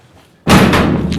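A door slams shut with a sudden, very loud bang after near silence, followed by a brief ringing, rattling decay.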